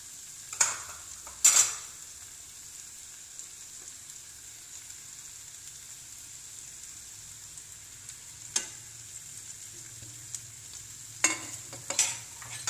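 Fried eggs go one by one into a masala gravy, making a soft, continuous sizzle with several sharp clatters of the spoon against the pan as it is stirred, and no talking.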